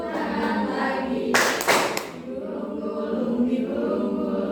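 Children clapping hands along to a classroom action song, a short burst of claps in the middle of the clip set against singing voices and background murmur.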